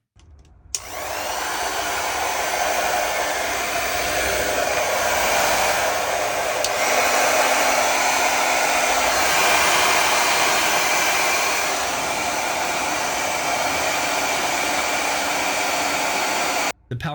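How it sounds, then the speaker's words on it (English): A 1875W compact travel hair dryer switches on and blows a loud, steady rushing whir for about sixteen seconds, shifting in strength partway through between low and high settings, then cuts off abruptly. "I'm going to go through and play the sounds for you so you can hear it on low and high."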